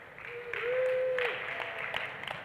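A conference audience claps through the whole stretch, a steady even patter of many hands at a moderate level, with a faint tone drifting through it.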